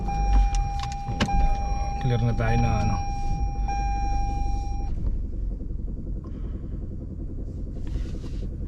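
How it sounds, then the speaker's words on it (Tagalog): A car with a knocking engine, suspected of a flexplate, flywheel or connecting rod bearing fault, is driven out of a garage. A low engine rumble runs under a steady tonal chime and brief clicks, while people talk over it. "ilalabas na natin yung sasakyan natin"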